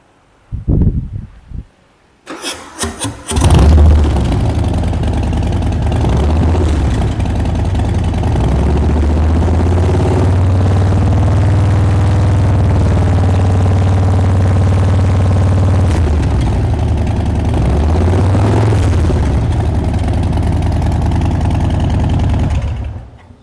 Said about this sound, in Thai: ขอฟังเสียงเครื่องยนต์หน่อยครับ